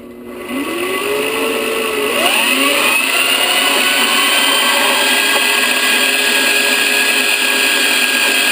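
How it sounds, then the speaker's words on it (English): A portable bandsaw cuts through metal stock for a teardrop trailer tongue, a steady loud whining drone with the blade pitch sliding as it bites in, continuing without pause and no talk. "this cool portable bandsaw, which I'm going to cut with"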